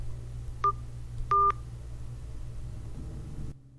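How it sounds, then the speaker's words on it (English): Touchtone phone keypad tones play while a PIN is entered: one short dual-tone beep, then a slightly longer one, clear over a low steady hum before the line falls silent. "Using your touchtone phone, please enter your PIN number."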